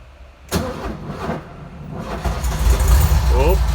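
A 1300 Volkswagen Beetle (Fusca) engine cranks and fires, then settles into a loud, close, uneven air-cooled idle that grows steadier; a voice speaks briefly over it.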